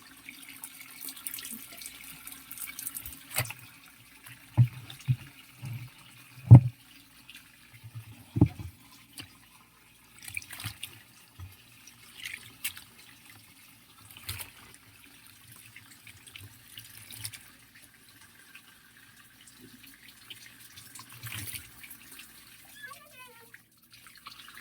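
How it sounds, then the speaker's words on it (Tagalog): A tap runs and water overflows from a basin during laundry washing at home, an intermittent splashing and trickling with scattered clunks and drips, while people talk at intervals. "Liop sa ang tubig kay nag-awas na."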